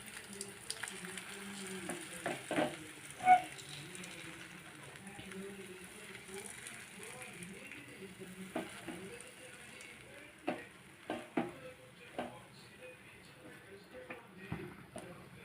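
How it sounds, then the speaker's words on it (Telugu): Food frying in hot oil in a kadai while being stirred, a faint continuous sizzle broken by scattered scraping clicks of the utensil, with a person speaking throughout. "మొత్తం ఇలా వేసాక ఒకసారి కళాయిని ఇలా అటు ఇటు ఇలా కలుపుకుందాం"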